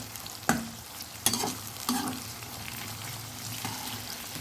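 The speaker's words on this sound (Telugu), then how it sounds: "ఆనియన్స్ గోల్డెన్ కలర్లో ఫ్రై అవ్వాలండి." Onions frying in oil until golden for mutton biryani, a steady soft sizzle with several sharp stirring scrapes of a utensil in the pan, close but fairly quiet.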